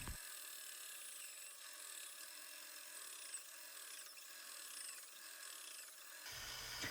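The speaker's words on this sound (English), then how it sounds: "I use this oscillating sander to smooth up the ends, get those cut marks off of it." An oscillating sander smooths the cut ends of a walnut charcuterie board, a steady close rasping buzz that runs without pause and cuts off just before the end.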